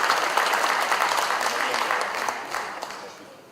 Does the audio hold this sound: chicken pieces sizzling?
no